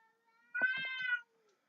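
A single cat gives a loud, drawn-out meow outdoors amid a cat fight, one yowling cry about half a second long standing out against near silence.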